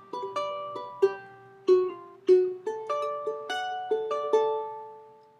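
A charango plays a short melodic phrase from a song, bright plucked notes ringing one after another at a moderate pace, close and clear with no voices.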